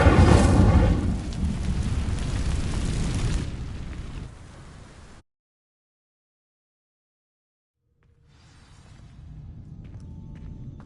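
Incendio fire spell cast in Hogwarts Legacy, igniting dry vines: a loud burst of whooshing flame that roars and fades over several seconds, then cuts to silence before a quieter ambient rumble returns.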